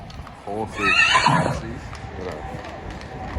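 Horses neigh loudly on a street in Vienna, one long whinny rising over people talking nearby, with faint hoof clops and street bustle behind.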